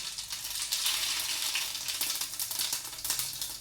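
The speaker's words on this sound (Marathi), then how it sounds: "चला आमटीला फोडणी देऊया" Spices crackle and sizzle in hot oil as a tempering for Marathi amti dal, a steady, close frying hiss with no voices over it.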